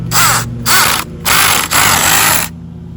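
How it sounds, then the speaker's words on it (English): A power drill bores into the ground to anchor a basketball hoop, four loud close whirring bursts separated by short pauses, the last one longer before it cuts off. "I'm going to get the drill bit"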